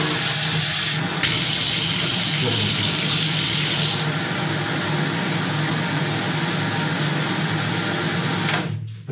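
Tap water running into a container to dilute dog shampoo for washing a husky, a bright steady rush lasting about three seconds near the start, then quieter indoor handling sounds.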